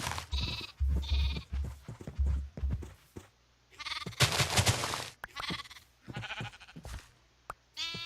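Sheep in Minecraft bleating several times in short, separate bursts, fairly close and clear, with quiet gaps and a brief noisy rustle midway.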